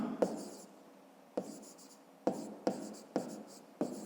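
Pen or pencil writing out a fifth-grade maths exercise by hand, heard as six short scratchy strokes spaced about a second apart, close and quiet with no voice.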